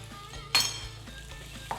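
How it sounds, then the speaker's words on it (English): Garlic and peppers hit a hot pan with a sudden loud sizzle that keeps crackling and fades, with a second small burst near the end, for a smoky veggie rice dish. "Add my garlic and peppers to the pan."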